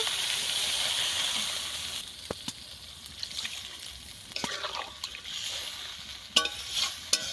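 Water is poured into a hot pan of cauliflower and egg curry, a loud hiss that settles into a gentler simmer, broken by occasional spoon clinks and stirring.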